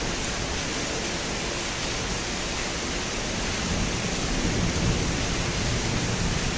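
Steady, dense hiss of afternoon rain pouring down, constant and fairly loud throughout with no voices, thickening slightly toward the end.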